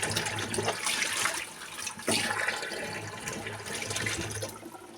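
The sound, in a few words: hot water running into a container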